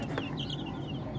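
Hubbard Sasso chickens clucking softly nearby, a quiet run of short, pitched clucks over a low background hum.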